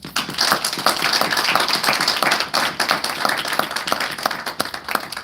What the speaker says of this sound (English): Please, colleagues, give them a round of applause.